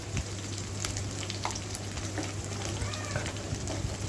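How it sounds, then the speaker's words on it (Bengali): Potato pieces fry in a pan with a little salt and turmeric, giving a steady close sizzle with occasional light stirring scrapes and no talk. "এবারে সামান্য নুন, সামান্য হলুদ দিয়ে হালকা করে ভেজে নেব"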